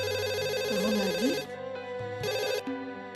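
A telephone rings in repeated electronic melodic bursts with short pauses between them, loud and close, with no one talking over it.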